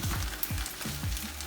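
Stir fry sizzling in a pan, an even hiss and crackle with a few low thumps and scrapes of stirring, heard close and without speech.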